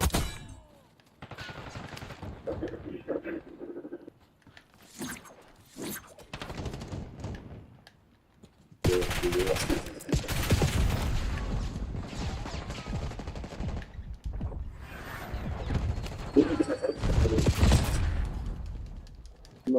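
Loud, dense gunfire from a big gun in a video game, rattling in rapid bursts with heavy thuds, then a sustained louder barrage through the second half.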